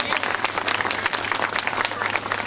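Audience applause at a school annual day function, honoring students' science projects: dense, continuous clapping from a crowd, steady and loud throughout, with a faint hum underneath.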